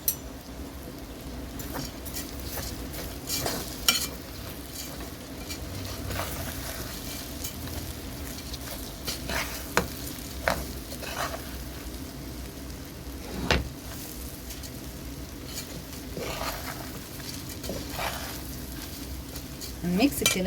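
Three cups of washed, well-drained rice are turned over in a pot with a spoon, giving soft scraping and shuffling close by. Faint sizzling sounds beneath the stirring, and a few louder knocks of the spoon against the pot break in.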